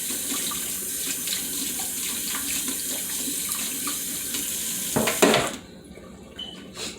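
Tap water runs steadily into a sink while chicken wings are washed, a close, continuous hiss and splash that briefly clatters and then cuts off near the end.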